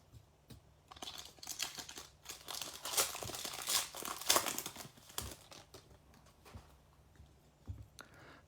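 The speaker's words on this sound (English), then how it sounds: "They made these a little hard to open, so I will use scissors." Trading card packs being cut open with scissors and handled, giving crinkly foil-wrapper rustles and snips, louder in the middle, close up with no talking.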